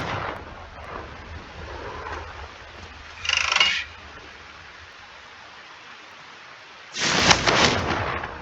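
Confringo blasting spell in Hogwarts Legacy, two loud fiery bursts a few seconds apart, the second longer and heavier, over a low ambient bed.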